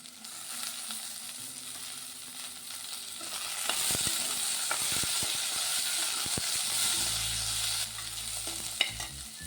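Green peas frying in a pan for vegetable pulao in a pressure cooker, a steady close sizzle with stirring clatters and scrapes of a spoon throughout, no voices.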